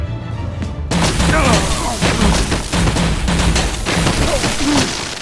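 A volley of gunfire erupts in Batman Telltale, a dense run of loud booming shots that follows a brief quiet lead-in, with voices shouting over the barrage.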